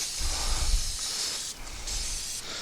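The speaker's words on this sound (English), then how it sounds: "I'm going to give this a quick rinse with brake cleaner." Brake cleaner sprayed onto a rear brake part of a Honda CR-V: a continuous close hiss with slight breaks, running nearly uninterrupted and with no talking.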